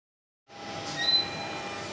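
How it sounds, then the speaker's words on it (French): A rubber-tyred train on Lyon metro line A sets in after silence with a faint rolling hum and a brief high squeak, heard at a distance with no talk. "Là ici vous avez le métro A"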